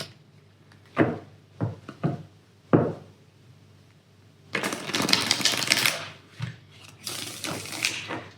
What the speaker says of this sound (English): Let me just reshuffle my cards first.